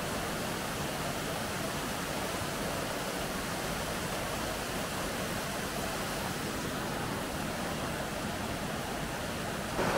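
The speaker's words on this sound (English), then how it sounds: "I can hear a waterfall" A waterfall in high fell country, a steady broadband rush of falling water heard from a short distance, continuous and even with no voices.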